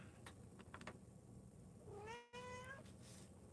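A pet cat gives one clear, rising-and-falling meow, close and fairly quiet, after a few soft indoor knocks and rustles in a calm room.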